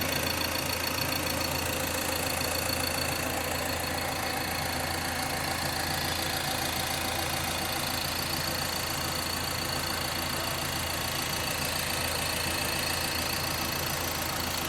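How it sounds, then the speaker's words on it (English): A 2015 Ford Transit Custom 270 Eco Tech van with 108k miles idles steadily under the open bonnet, a smooth continuous mid-pitched engine hum heard close and alone with no talking. "She's idling okay."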